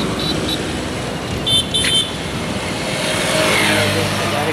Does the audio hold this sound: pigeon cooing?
no